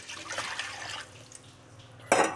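Homemade cooking oil poured into a container: a soft, steady liquid trickle that ends in a brief, louder splash near the finish, with no talking.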